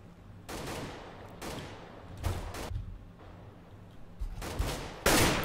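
Rifle gunfire in CS:GO on de_mirage during a competitive match, several sharp bursts and single shots at moderate distance, spaced unevenly, with a louder burst at the end.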